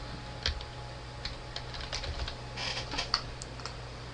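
Keys tapped on a computer keyboard while entering a name into mobile app building software, a quiet irregular run of light clicks with a few sharper strokes, close and alone.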